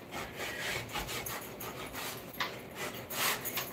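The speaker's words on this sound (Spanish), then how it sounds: "vamos a tomar un cuchillito de sierra" A small serrated knife saws back and forth through a crusty French-style bread roll for a chicken torta, making close, scratchy rasping strokes in an uneven rhythm.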